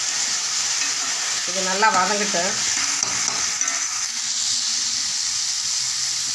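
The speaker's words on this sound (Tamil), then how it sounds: "இப்போ நல்லா வெங்காயம் அரைச்ச விழுதெல்லாம் நல்லா வதங்கிடுச்சு." Ground onion paste sizzles and hisses steadily in a hot pan while being stirred, with a brief voice partway through.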